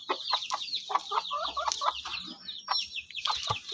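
A broody hen clucking in quick repeated bursts, close by, with other chickens chattering and calling around it.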